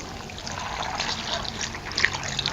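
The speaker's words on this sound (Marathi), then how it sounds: "त्यामध्ये आपण पाणी घालूया" Water trickles and pours into a second vessel holding raw peanuts, a soft, steady close-up dribble with a few brighter splashy spikes near the end.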